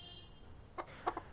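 A pet rooster gives a few short clucks, two or three brief calls near the end over a quiet indoor room background.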